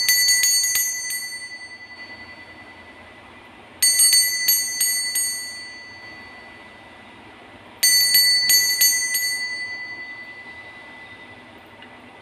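A bright bell rings out three times to mark the start, each a fast cluster of clear metallic strikes followed by a long fading ring, spaced a few seconds apart, with no talking.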